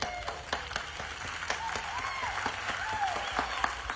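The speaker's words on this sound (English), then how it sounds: "Please give a round of applause to Michael Toy" Audience applause for Michael Toy, a True Texas Project volunteer of the month, at a Tarrant meeting: a modest, steady patter of clapping hands with a few louder claps, moderately distant, with faint voices mixed in.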